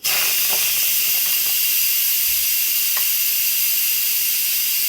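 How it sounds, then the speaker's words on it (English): Steam hissing steadily from the release valve of an Instant Pot pressure cooker holding Great Northern beans, a close, even rush of hiss lasting throughout with a few faint clicks. "we are just going to go ahead and let the pressure out of the pressure cooker"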